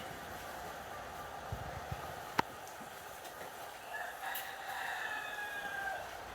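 A rooster crows on a poultry farm holding thousands of chickens, with faint clucking and farm noise in the background; the crow is moderately distant and rises gradually over the last seconds.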